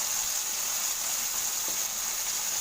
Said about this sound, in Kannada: ಇದನ್ನ ಶಾಲು ಫ್ರೈ ಮಾಡಬೇಕು ಶಾಲು ಫ್ರೈ ಮಾಡೋಕ್ಕಿಟ್ಟಿದ್ದೀನಿ ಈಗ